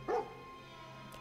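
Dog companion Dogmeat barking in the video game Fallout 4 during the Nuka World DLC, a single short bark near the start followed by faint background game ambience.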